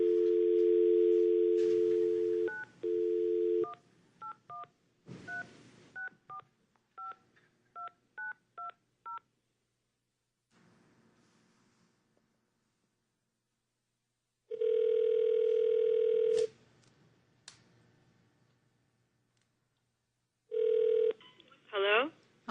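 An old-style telephone line at an October 2010 federal committee meeting: a steady dial tone, then a run of short touch-tone dialing beeps, followed later by long ringback tones, loud and clear, with a voice answering near the end.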